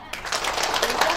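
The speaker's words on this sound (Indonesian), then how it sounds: "Tepuk meriah Bu" An audience claps in rhythmic bursts during a counted clap routine at a family parenting talk session, dense patter of hands running steadily throughout at moderate loudness.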